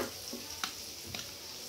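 Prawns sizzle quietly in hot oil, a continuous frying hiss with a couple of soft clicks from a utensil.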